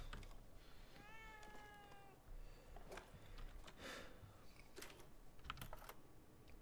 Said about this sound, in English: Are you the baby that's crying, kitty?